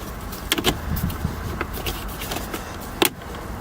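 Ignition key turned on a Saab 9-5 that fails to start: a handful of sharp clicks and brief mechanical whirs over steady low background noise, with no engine catching.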